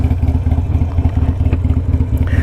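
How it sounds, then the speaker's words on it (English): Harley motorcycle engine idling nearby, a steady loping low rumble with regular uneven pulses and light mechanical clatter, heard alone without talk. "I love the sound of my Harley. I love my idling sound here."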